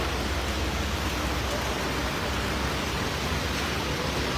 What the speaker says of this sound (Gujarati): આપણે હળવદ પંથકમાં વરસાદી માહોલ જોઈ રહ્યા છીએ